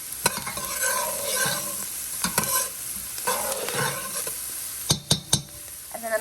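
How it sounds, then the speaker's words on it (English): Onions with garlic powder sautéing in a pan, a steady sizzle under repeated spoon stirring, with several sharp scrapes and clinks against the pan close up and no talking. "Garlic and onion sauteing is one of my favorite smells in the world."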